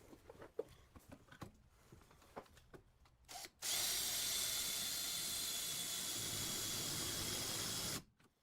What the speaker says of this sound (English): so I made a pilot hole and then continued with the step bit to get the right size for the fasteners.